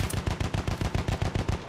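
Machine gun fire in the video game Battlefield 1, a rapid, loud, evenly spaced burst of about a dozen shots rattling off in quick succession.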